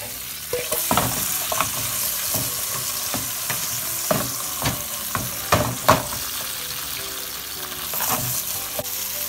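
Sea bream sizzles steadily in a frying pan for a fish acqua pazza, broken by a regular series of sharp scrapes and knocks as the pan and fish are moved; no voices.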